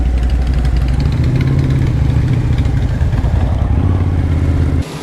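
A Suzuki TL1000R motorcycle engine idles steadily up close, a loud, even low rumble with a mechanical clatter throughout, dropping slightly just before the end.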